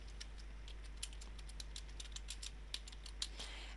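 Typing on a computer keyboard, a light, irregular stream of soft key clicks, close but faint over a low steady hum.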